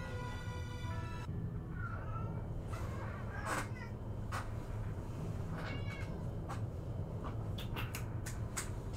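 A pet cat meows a few times in a game-streaming room, the cries short and fairly close over a steady low hum and background game sounds.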